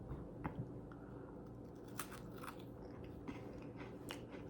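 Crisp crunching bites into a Ritz cracker topped with cheesy onion spread, a few close, quiet snaps followed by soft chewing, with no talking.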